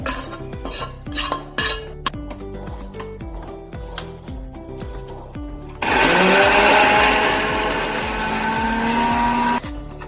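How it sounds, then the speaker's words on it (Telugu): A mixer grinder roars loudly and steadily for several seconds, grinding fried onion into paste, preceded by clattering of utensils and a lid being handled. "వేయించి పెట్టుకున్న ఆనియన్ ఇది కూడా మిక్సీకి చేయాలి. మిక్సీ చేసి పేస్ట్ లాగా చేయాలి."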